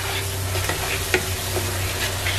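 Spice masala fries in a pan for a fish curry with a steady close sizzle and low hum, plus a few faint scrapes of stirring. No one speaks.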